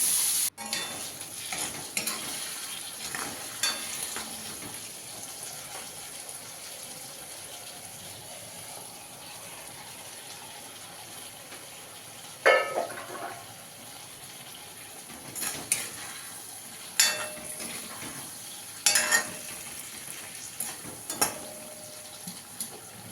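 Ridge gourd fries with onions in a pan, giving a low, steady sizzle broken by occasional sharp scrapes and clinks as a utensil stirs against the metal.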